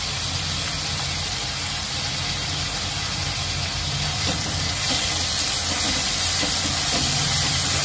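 Dill and spinach greens sautéing in a pan with turmeric and salt, a loud, dense, unbroken hiss and sizzle, close and steady throughout, with no voices.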